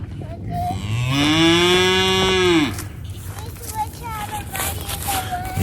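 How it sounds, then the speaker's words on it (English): Cattle on a farm give a loud, drawn-out moo lasting more than a second, followed by softer, fainter lowing and background activity as the livestock are moved. "Yeah, and I'm gonna bring the cows over where Gary's at."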